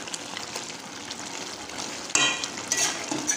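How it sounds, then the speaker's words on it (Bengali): Chicken pieces frying in a pan, being stirred and browned in spice for a spicy dish: a steady, close sizzle with the scrape of a utensil, growing louder partway through as the pan is stirred. "চিকেন কষতে লেগেছে, সম্পূর্ণ এখনও কষেনি।"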